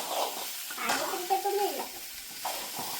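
Food being stirred in a cooking pot with a small amount of water, a soft scraping swirl with light sizzle, with quiet voices murmuring in the background.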